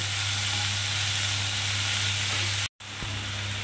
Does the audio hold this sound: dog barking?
no